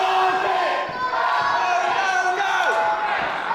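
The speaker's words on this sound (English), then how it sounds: "Ryden getting irritated by the pro-Carter chants here." A crowd at a live event chants loudly in support of Carter, a sustained rhythmic roar of many voices filling the arena throughout.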